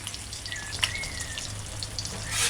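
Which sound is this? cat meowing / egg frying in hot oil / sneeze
egg frying in hot oil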